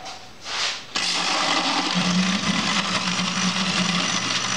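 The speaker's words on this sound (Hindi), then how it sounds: "अब हम इसको ब्लेंड करने लगे हैं।" A blender whirs loudly and continuously, churning strawberry milkshake with ice and milk after a short quiet start.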